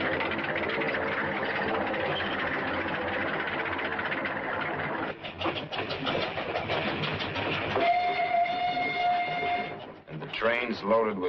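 Trains carry war-weary equipment back for salvage during the 1951 Korean War, rumbling continuously beneath a narrator's voice, with a sustained whistle tone toward the end and a brief break before the noise resumes.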